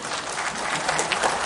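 A crowd at a political rally applauds, a dense, steady wash of clapping heard from within the audience, with no voices over it.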